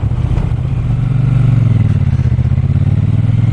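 A Triumph T120 Bonneville motorcycle cruising at speed gives a loud, steady engine drone with a deep, even exhaust note and no voices.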